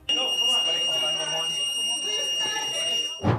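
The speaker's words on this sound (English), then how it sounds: "As alarms went off in the courtroom," An electronic alarm in a courtroom sounds as a steady high-pitched tone with overlapping beeping, mixed with shouting and commotion.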